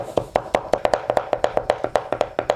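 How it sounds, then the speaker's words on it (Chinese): A cleaver chops lean pork into minced meat on a board in quick, even, rhythmic strikes, loud and close, about seven blows per second and nothing else heard. "瘦肉切一下， 剁成肉末。"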